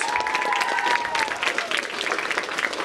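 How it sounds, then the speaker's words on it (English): A live audience applauds at a community food drive event, with steady dense clapping throughout and a brief tonal whistle-like sound near the start, at moderate loudness. "Round of applause."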